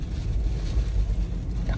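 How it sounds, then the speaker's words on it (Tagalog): Strong wind buffets and roars in low, gusting waves during rain near Drumheller, Alberta, steady throughout with no voices. "Malakas pa yung hangin."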